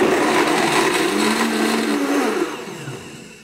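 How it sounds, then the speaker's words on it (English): A countertop blender whirs loudly and steadily as it mixes a mocha frappe with coffee, its motor pitch shifting slightly before winding down at the end. "we're going to pop the lid on and we're going to hit start"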